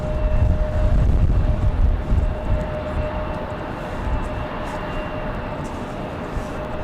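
An airliner arriving at Raleigh-Durham International Airport, a loud, steady broadband engine roar with a low rumble that is strongest at first and eases slightly, heard from an outdoor spotting position.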